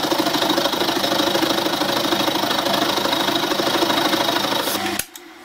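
A metal-cutting machine takes a cut on a small steam engine cylinder clamped in a vise, a loud, steady mechanical whir with fine rapid chatter that runs continuously and then stops abruptly near the end.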